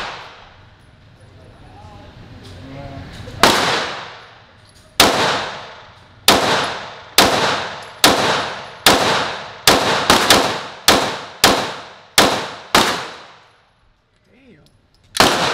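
A pistol fitted with an 18 pound recoil spring fires ten rounds in an uneven string of sharp, loud reports, each followed by a short decaying ring, with brief pauses between some shots.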